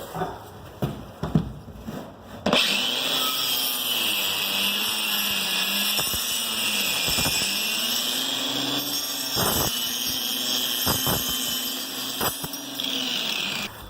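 A power saw undercuts baseboard and door casing ahead of hardwood floor installation, running as a steady, loud whine for about eleven seconds after a few knocks and handling sounds, with slight pitch dips as the blade works through the wood.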